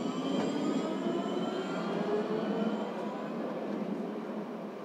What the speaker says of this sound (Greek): Πάει τρένο, μπράε, πάει τρένο.